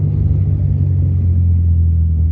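A vehicle overtakes a loaded dump truck on the Pantura highway, producing a steady, loud, low engine and road rumble throughout.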